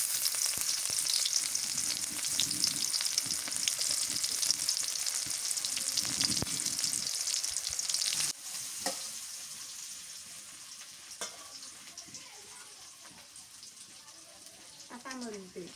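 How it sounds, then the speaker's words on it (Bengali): Chopped onions frying in mustard oil for a Ramadan gourd curry, a steady bright sizzle that fills the clip, loud at first and easing after a stir partway through, with faint clinks near the end. "পেঁয়াজ কুচি দিয়ে দিই"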